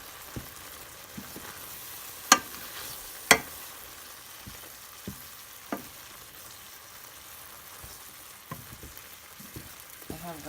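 Honey mushrooms (armillariella mellea) cooking in a pan with cornstarch and their own liquid, giving a steady low sizzle with occasional sharp clicks and pops, heard up close with no talking.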